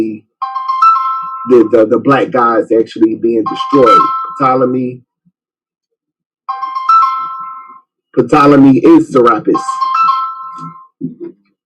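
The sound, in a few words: mobile phone ringtone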